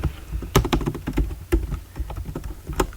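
Rapid clicks of a computer keyboard as someone types scanf code, irregular bursts of keystrokes close and clear, with no talking.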